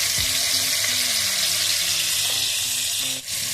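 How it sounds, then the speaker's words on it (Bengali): Cauliflower pieces fry lightly in hot oil in a pan, giving a close, continuous crackling sizzle with small pops throughout and no talking. "এই তেলটা গরম হয়ে গেলে কপিগুলো দিয়ে দেবো। কপিগুলো দিয়ে হালকা ভেজে"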